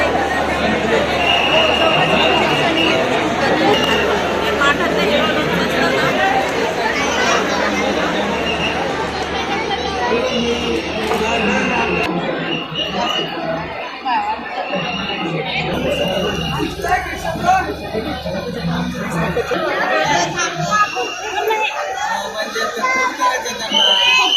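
Crowd chatter at a busy rural festival with food and craft stalls, a constant babble of many voices close around, and a person talking over it.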